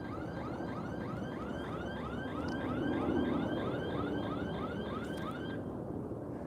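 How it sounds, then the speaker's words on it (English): A car alarm sounds outdoors on a city street, cycling through a steady run of repeating rising chirps at moderate distance over a low traffic rumble, with no voices. "So the alarm keeps going off."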